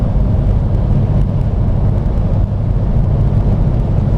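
A 2008 Hummer H2 on BFGoodrich KO2 all-terrain tires cruises along on a normal drive, making a loud, steady low rumble of engine and road noise with some wind buffeting, with no talking.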